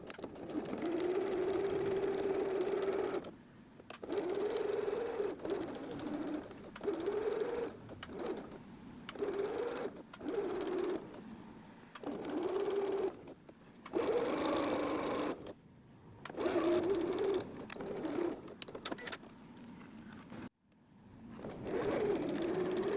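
Sewing machine stitching the curved hems of a tea towel apron, running in repeated bursts of steady whirring separated by short pauses as the fabric is turned and repositioned.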